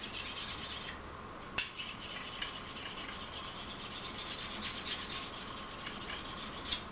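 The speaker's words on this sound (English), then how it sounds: "You can even take your stone, just hold it right flat down on that grind, just polish that edge." A whetstone is held flat against the ground edge of a hunting knife to polish it, giving a steady close scraping rasp that runs almost unbroken and briefly drops out near the start.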